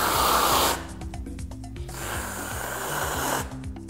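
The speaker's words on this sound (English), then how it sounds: "We're gonna put whipped cream on it." Whipped cream sprays from a can onto a non-alcoholic piña colada for kids in two loud hissing bursts, with a sputtering, ratcheting valve sound between them, close up.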